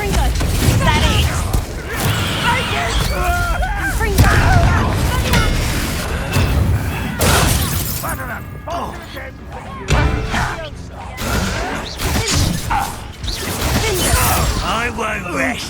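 Fire spell explosions in Hogwarts Legacy boom and crackle through a dense, busy battle soundscape of whooshes and impacts, with a voice shouting the incantation over the din.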